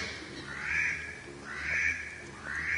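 A duck call is blown to imitate a drake, giving three drawn-out nasal quacking notes at a steady pace, moderately loud over a faint background hum.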